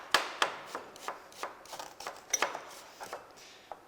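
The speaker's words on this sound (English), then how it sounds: "Then you cut them into small cubes." A very sharp knife chopping food into small cubes on a board, a run of crisp, fairly even taps at a steady rhythm, close and clear with no talk.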